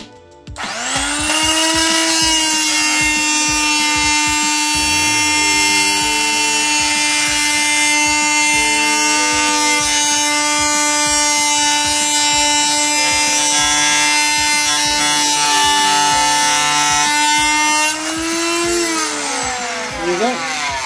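Silverline 300W corded multi-tool cutting through plain smooth timber, a loud, steady high-pitched buzzing whine held for about sixteen seconds close up, rising at the start and winding down at the end.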